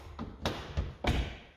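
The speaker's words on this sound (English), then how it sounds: "The car also features soft closed doors" Soft-close door on a 2012 BMW 640d M Sport F13 coupe pulling itself shut, heard as a few close, soft thumps and taps spaced over a second and a half.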